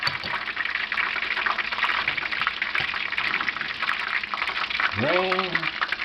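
Fish and chips frying in a fryer: a steady, loud hiss and crackle of oil fills the whole stretch, with a brief rising tonal squeal near the end.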